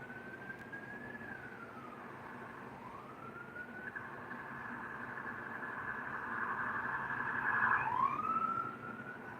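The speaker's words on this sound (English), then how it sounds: "So, sirens, you probably heard, off to somewhere." A wailing siren rises and falls steadily, growing louder toward the end before dropping in pitch as it passes, over a constant background hum.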